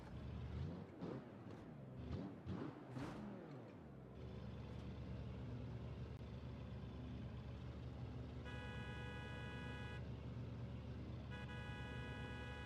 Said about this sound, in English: I also love the horn honking sound effects.